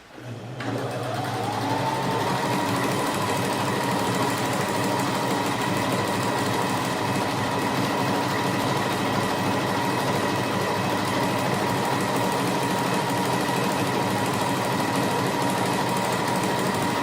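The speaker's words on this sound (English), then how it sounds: "I am going to sew a zigzag stitch at all the round edges of my big circle of fabric" A sewing machine zigzag stitching the raw round edge of a large fabric circle for a tablecloth, running fast and continuously for the whole stretch with an even mechanical whir and rattle, close and steady, no talking.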